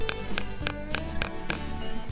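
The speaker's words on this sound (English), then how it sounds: "gently tap the spile in until it's snug" A hammer gently taps a metal spile into a maple tree: seven evenly spaced light, sharp taps at close range with a slight metallic ring, alone without talk.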